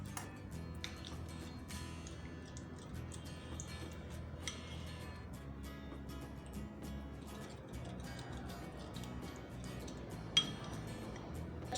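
A spoon stirs honey and ginger juice mixed with a spoonful of ground clove, black pepper and nigella seed powder for a sore throat remedy, giving soft continuous scraping with light clinks of metal against the container.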